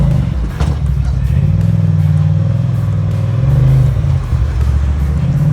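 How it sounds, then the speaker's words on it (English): An off-road vehicle on a desert trail loop gets a sudden throttle burst, its engine loud and close with a low, rumbling rev over constant drivetrain clatter. "Like a little whiskey throttle this early in the morning"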